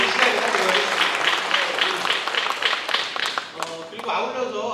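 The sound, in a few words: audience applause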